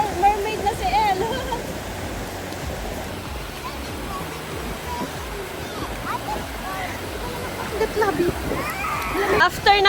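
Children splashing and playing in a resort swimming pool in Boracay, continuous water splashes and sloshing with voices talking and calling over them.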